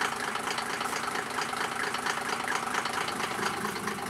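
A Mercedes 208 van's OM603 diesel engine, set to a raised warm-up idle on a cold day and fitted with twin exhausts, runs at a steady, even rumble with a faint rhythmic clatter, heard alone and moderately close.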